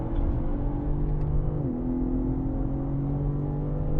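A BMW M car on track at Sonoma Raceway drones steadily under throttle, its engine tone dipping briefly mid-clip as the driver lifts off before picking up again, heard as a continuous in-car hum.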